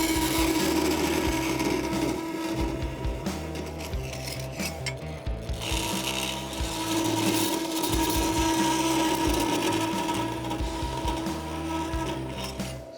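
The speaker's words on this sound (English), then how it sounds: "So now I'm just going to switch over to the zip disc, cut this out, head over to the bandsaw, cut that out." A bandsaw cuts through a metal angle piece during a Titan-swapped Nissan Frontier truck build, giving a steady, loud grinding rasp with a constant humming tone that runs for the whole cut, close and uninterrupted.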